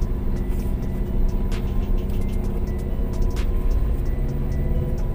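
A manual car pulling away with gentle throttle during a driving lesson, a steady low engine rumble with road and cabin noise throughout, no sharp revving.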